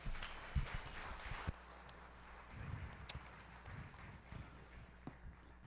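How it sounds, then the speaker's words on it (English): Scattered applause from an auction crowd at a cattle sale, soft and somewhat distant, with uneven claps over faint background murmur. "So give him another round of applause."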